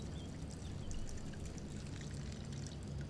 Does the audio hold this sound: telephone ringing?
no